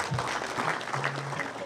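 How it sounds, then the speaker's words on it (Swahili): An audience applauding at a colourful burial event, giving a dense, steady wash of clapping that stays at an even level throughout, with a faint voice and a low tonal hum underneath. "Karibu tupigie makofi."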